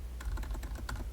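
Typing on a computer keyboard: a quick run of soft, close key clicks in an irregular rhythm, heard alone without talk.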